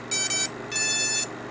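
An ESC on a simple T copter build sounds two high electronic beeps from the motor, each about half a second long and separated by a short gap, clear and close.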